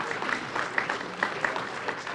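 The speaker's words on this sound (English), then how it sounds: "You can clap for the grantees" Audience at a Boston Cultural Council grantee reception applauding the grantees, a steady patter of clapping from a moderate-sized crowd lasting about two seconds, with a few sharper claps standing out.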